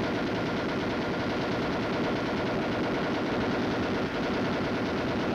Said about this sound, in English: The M73 machine gun is a lightweight, air-cooled weapon.